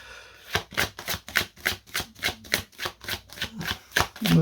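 Tarot cards being shuffled in a steady run of about a dozen crisp riffling bursts, close and moderately loud, with no talking over them.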